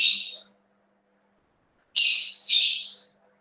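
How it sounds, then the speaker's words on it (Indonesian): A bird calls nearby in two loud, high-pitched chirping bursts, the first brief and the second longer, with silence between them. "Maaf, suara burungnya ya."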